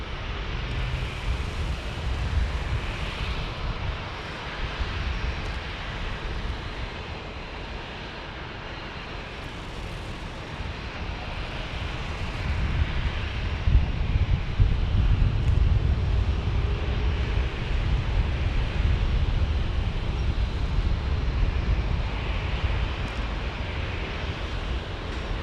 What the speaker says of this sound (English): The next one is an A321.